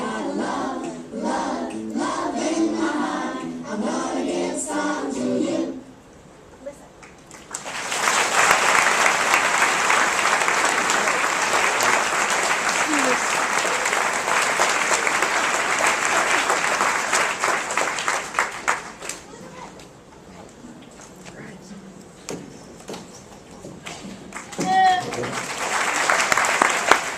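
A school tolerance fair audience breaks into loud, sustained applause after a spoken performance. Steady crowd clapping holds for about ten seconds, with talk before and a quieter patter afterward.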